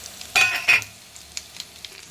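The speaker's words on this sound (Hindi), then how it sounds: "घी हमारा गरम हो गया, लहसुन डाल दिए।" Garlic hits hot ghee in a tadka for Gujarati dal dhokli, giving two sharp, loud bursts of sizzling close by, then a softer crackle with light stirring clicks fading out.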